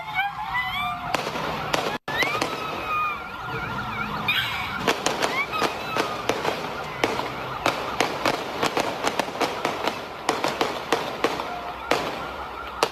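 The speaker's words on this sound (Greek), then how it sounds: "Στο βίντεο ακούγονται οι σιρήνες των περιπολικών που καταδιώκουν το λευκό αυτοκίνητο, καθώς και οι πυροβολισμοί που ακολούθησαν" Police sirens wail in the distance from patrol cars chasing a white car while a rapid string of sharp gunshots bursts out over the scene.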